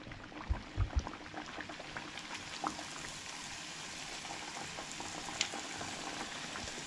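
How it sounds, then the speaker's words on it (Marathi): Puris deep-frying in hot oil for a home fasting dinner give off a steady, fine bubbling crackle, with a few soft thumps near the start and no one talking. "आतां मम्मी हांगसर फ्राय करता पुरी."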